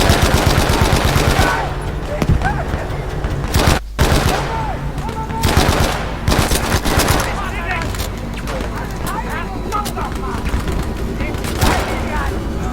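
Machine gun fire in the WWII shooter Battlefield V, with dense bursts of automatic shots and explosive booms piling up through a hectic battle scene, steady and loud, with a brief drop near the start.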